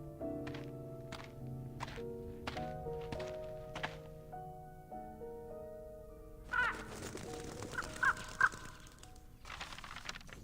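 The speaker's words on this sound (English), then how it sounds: "怎么会有乌鸦啊？" A crow caws a few times partway through a scene in the video game Reverse: 1999, heard over soft piano-like game music with faint thuds, moderately quiet in the mix.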